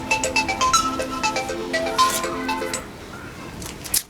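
A melodic phone ringtone chimes in a quick repeating pattern for about three seconds, fairly loud and close, then fades out into a quiet room in a Chhattisgarhi short film.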